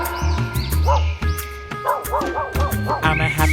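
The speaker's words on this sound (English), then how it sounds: "D for dog. D for dog." A cartoon dog yips and barks with bright, springy calls over bouncy music in a children's phonics alphabet song, several short barks falling in quick rhythm, close and loud.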